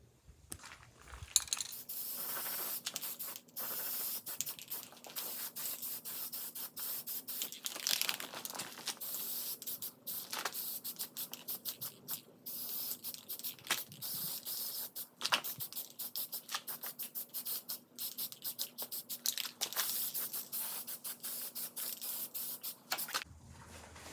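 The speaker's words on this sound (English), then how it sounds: "I'm gonna get it with some of this Rust-Oleum" Rust-Oleum spray paint hissing onto mounting hardware for a 1972 Chevy K5 Blazer seat, long continuous aerosol bursts with short breaks and faint rattles, close and steady throughout.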